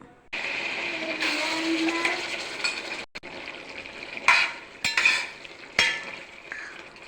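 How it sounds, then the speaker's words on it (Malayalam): Beef slowly frying in a bell-metal uruli pot over a stove, giving a steady soft sizzle interrupted by a few sharp metallic scrapes and clinks of stirring, close by with no talk. "ഇനി ഞാനിത് ഉരുളിക്കകത്തിട്ട് പതുക്കെ ഫ്രൈ ആക്കിയെടുക്കും"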